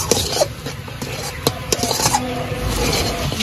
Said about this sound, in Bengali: লবণ হলুদ দিয়েও একটু নাড়াচাড়া করে নিলাম